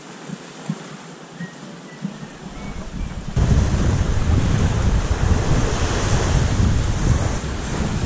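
Ocean waves and wind on Moreré beach on Boipeba island, Brazil, roar loudly and continuously at close range. The sound is quieter at first, then surges into full, heavy wind and surf noise.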